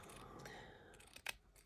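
Scissors snip once through fabric layers while squaring off the edge of a fabric flip, a short crisp close cut standing out briefly from quiet room noise.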